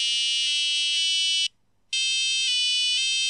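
A micro:bit plays a melody of bright electronic square-wave beeps, loud and close, holding steady tones that step between notes, with a short silent gap midway before the tune resumes.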